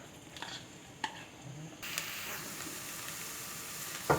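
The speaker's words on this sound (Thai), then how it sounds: "อ่ากระทะนี้เรามาเจียวกระเทียมกันครับ" Garlic frying in a wok on a home stove for Thai chicken rice porridge, a soft steady sizzle with faint stirring clinks, rising slightly in the middle and ending with a brief louder scrape.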